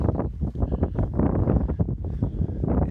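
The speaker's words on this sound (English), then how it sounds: "All right, it's a little windy." Steady gusty wind at South Cape Beach in Cotuit buffets the microphone, a dense, rumbling roar with fluctuating gusts throughout.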